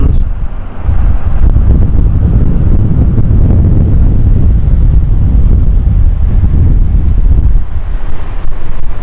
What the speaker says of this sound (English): Would you believe wind's picked up again?